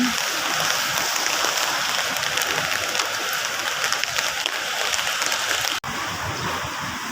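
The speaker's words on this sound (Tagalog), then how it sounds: "Malakas na naman ang ulan guys." Dense, steady hiss of heavy rain pouring continuously, close and loud, with no speech and a brief dropout near the end.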